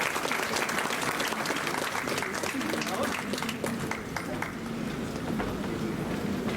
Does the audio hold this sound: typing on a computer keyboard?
no